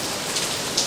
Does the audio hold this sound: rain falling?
yes